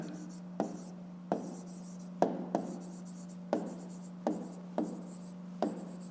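A pen writes by hand on paper while a fifth-grade math exercise is solved, a series of short scratchy strokes at a steady pace, close and quiet, over a constant low electrical hum.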